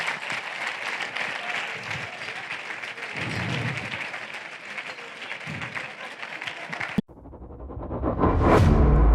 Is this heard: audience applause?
yes